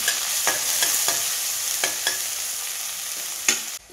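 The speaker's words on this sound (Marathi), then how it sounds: "फोडणीसाठी ना मी एक कांदा चिरून घेतलेला आहे, तो आता टाकून घेते" Chopped onion fries in hot tempering oil with cumin seeds, sizzling steadily while a spoon stirs with repeated scraping clatters against the pan, close and clear.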